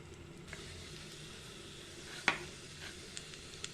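Ghee tempering in a small ladle with two broken dried red chillies and half a spoon of cumin gives a quiet, steady sizzle, with one sharp clink near the middle and a couple of faint taps afterward.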